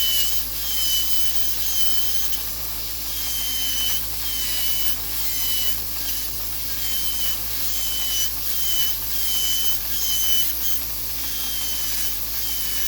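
An electric grinder whines steadily at close range as it grinds down a thick, curved toenail, the high-pitched buzz pulsing slightly in strength throughout without pause.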